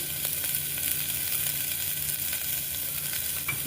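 Chopped onion frying in a pan with salt for spinach soup, giving a steady, dense sizzle that stays loud and even throughout, with no talking.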